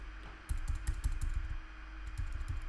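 Someone typing code on a computer keyboard, a quick irregular run of soft close key clicks with a short pause partway through.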